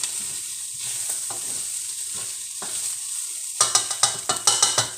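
Ground pork seasoned with garlic, salt, pepper, ginger and soy sauce fries in a pan with a steady close sizzle, then a utensil stirs and scrapes it in several quick strokes.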